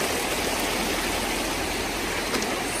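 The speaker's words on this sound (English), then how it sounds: "River come down, so I'm going to take off my slippers and walk in my water." River water flows in a steady, close rushing wash, an unbroken hiss and gurgle with no voices over it.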